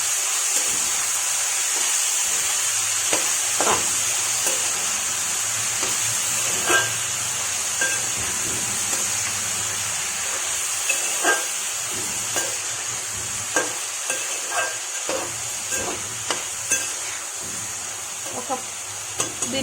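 Snake gourd curry with turmeric and salt is stirred in a hot pan: a constant close sizzle and hiss broken by repeated scraping knocks of the spoon against the pan.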